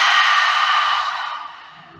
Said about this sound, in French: on va commencer par souffler par la bouche pour apprendre cette respiration